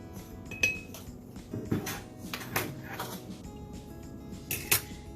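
A teaspoon taps and clinks against a glass as instant coffee goes in, a few soft scattered clinks with quiet rustling in between.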